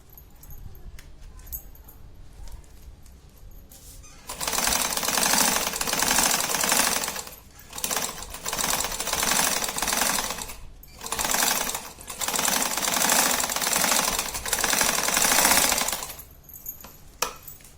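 A sewing machine stitching fabric for a homemade clutch purse runs loud and close in several sustained bursts, with brief stops between runs.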